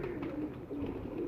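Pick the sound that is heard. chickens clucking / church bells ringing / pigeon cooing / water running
pigeon cooing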